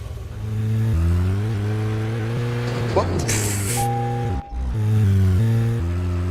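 A car engine whines and drones steadily while driving, the pitch stepping up and down through gear changes, loud and close, with a brief dip midway.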